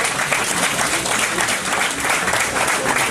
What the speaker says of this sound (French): Et on peut donner une main d'applaudissement à Michel qui s'est donné ce matin.